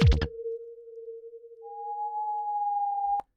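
Steady synth test tone from an M8 tracker, a clean sustained sine-like pitch holding for about three seconds, joined halfway by a second higher tone, then cut off abruptly, after a brief burst of talk at the start.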